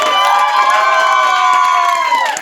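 A loud, dense crowd cheers and shouts continuously at a get-together party with a DJ, high children's voices mixed into the roar; no distinct clapping stands out.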